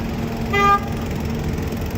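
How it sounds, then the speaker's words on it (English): A single short car horn toot on a New York City street, sharp and fairly close, standing out briefly over a steady background of traffic noise. "Honk, honk."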